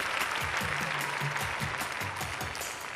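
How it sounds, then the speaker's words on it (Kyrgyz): Sustained applause from an audience at a book presentation during a women's day concert, a dense steady wash of clapping with a low voice or music murmuring faintly beneath. "Вручаем под ваши несмолкаемые аплодисменты."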